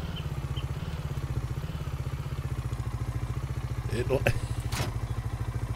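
In Farming Simulator 19, a small tractor of about 20 horsepower strains to pull a tipper. Its low engine chugs steadily with a rapid pulsing beat, and a brief voice and a few clanks come through near the end.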